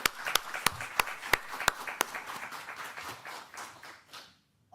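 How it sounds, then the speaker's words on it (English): A small group applauds a pair of artists during a livestreamed anniversary celebration, a few sharp distinct claps followed by a softer patter that dies away into silence. "Please give a big applause to this pair."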